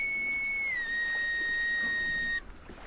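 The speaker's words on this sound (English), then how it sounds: "A blow of a whistle." A ship's whistle blows one sustained, steady tone that dips slightly in pitch partway through, then cuts off abruptly, sounding clear and alone.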